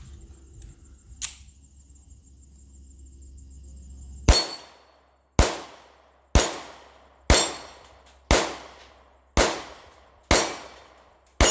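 An HK45C pistol fired left-handed at a shooting range, with eight sharp, loud shots at a steady pace of about one per second after a quiet stretch with light handling noise, each crack ringing out briefly.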